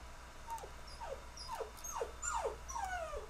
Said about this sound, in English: And if you hear whimpering, it's my puppy in the background.